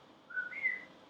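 Mazatec whistled speech carries a whistled name: a faint, brief two-part whistle, gliding upward from a lower note to a higher one, alone over quiet room background.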